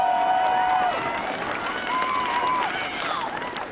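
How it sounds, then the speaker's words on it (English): Audience applause at a Montgomery community gathering, broad steady clapping mixed with crowd noise and a few voices, loud and close throughout, easing slightly midway. "give Ike Leggett another round of applause"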